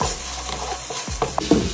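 About half a teaspoon of garlic paste sizzles in a hot pan of vegetable fried rice. A steady frying hiss runs under a few scrapes and stirs from a utensil close by, and no one speaks.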